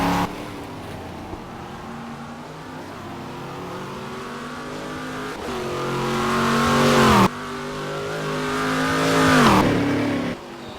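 A stock car racing around the Ribeirao Preto circuit in Game Stock Car 2012 holds a steady engine drone, revving up through the gears in two rising pulls, each cut by a sharp drop at the shift, with no voices.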